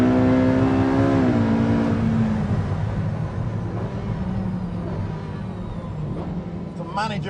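A powerful car accelerating hard out of a corner, its engine note climbing loud and close, dropping as it shifts up a gear early, then pulling steadily on with road and wind roar.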